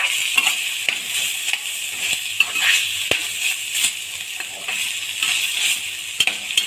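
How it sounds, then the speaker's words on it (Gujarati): Ivy gourds roast in a pan with a steady, close sizzle that never stops. Sharp clicks and taps of stirring punctuate it, and no voice is heard. "તમે જોઈ શકો છો કે ગિલોડા એકદમ શેકાઈ ગયા છે"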